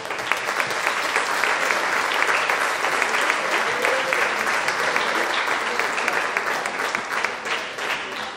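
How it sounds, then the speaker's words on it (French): Warm, sustained applause from a crowd at an association's 30th anniversary ceremony, a dense, steady wash of many hands clapping at full strength for the whole stretch, with no voice over it. "Je vous demande, parce que c'est important aujourd'hui, c'est un anniversaire, encore une fois, de tous applaudir chaleureusement."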